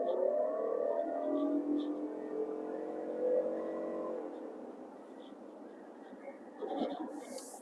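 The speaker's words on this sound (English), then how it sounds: "All right, gonna give it a little gas now." A 2024 Toyota Sienna Limited Hybrid with a four-cylinder engine accelerates from inside the cabin, a moderate rising engine hum with climbing pitch that fades into softer road noise.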